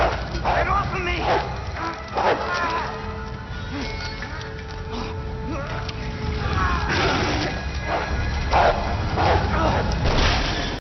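Zombie dogs in Resident Evil 2 bark and snarl in repeated bursts amid loud game action and thuds, with someone talking over the noise.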